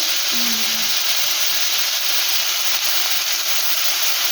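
Steady, even sizzling of jackfruit seeds, teasel gourd and taro stolons frying in oil in a pan, a constant bright hiss with no talking.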